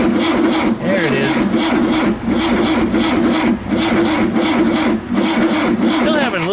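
VW Super Beetle engine cranking over and struggling to start, a loud rhythmic starter churn with repeated labored pulses about every second and a half, near and continuous without catching.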